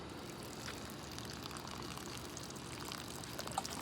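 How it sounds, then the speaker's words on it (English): Water pours and trickles onto a plant in a home vegetable garden, a soft continuous splashing stream, faint and steady, with no talking. "I'm gonna water this one up"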